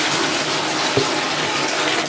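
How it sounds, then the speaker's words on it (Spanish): Water is poured steadily into a small tub for bathing, giving a continuous loud rushing splash from close by with no break. "yo estoy echándole agua a esto"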